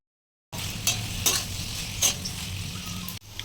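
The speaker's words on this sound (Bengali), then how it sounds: "এবার মা যে সরষাটা বেটে রেখেছিল সেই সরষাটা দিয়ে বেশ কিছুক্ষণের জন্য কষিয়ে নিতে হবে" Taro stolons, already stewed soft, sautéed with ground mustard paste in a pan: a steady, close sizzle with a few brief spatula scrapes and clinks, starting abruptly and running without talk.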